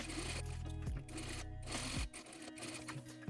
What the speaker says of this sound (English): We're gonna start sewing and end here in the fold.